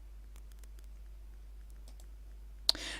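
A computer mouse clicks during work in record-management software: faint, soft, scattered ticks over a quiet hum, then one sharp, louder click near the end.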